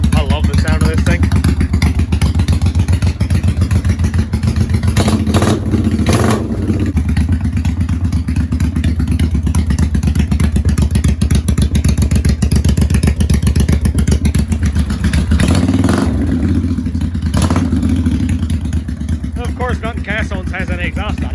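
A 1985 Honda Shadow 500 motorcycle running with no exhaust fitted, its raw engine note loud and steady throughout with brief rises in revs, while people talk over it.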